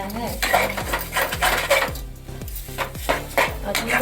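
A spoon stirs ginger-garlic-chilli paste into potatoes in a pan, with steady rhythmic scraping and clinking against the metal, close and fairly loud, with no talking.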